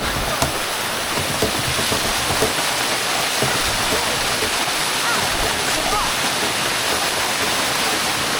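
Steady broadband rush of a waterfall in Thailand, loud and close, continuous water spray and splashing with no pauses, occasional faint voices underneath.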